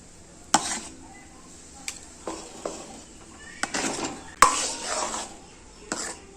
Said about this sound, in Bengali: এখন ওই পেস্ট করা সাবুটা এর মধ্যে দিয়ে দেবো দিয়ে মিক্সড করে নেব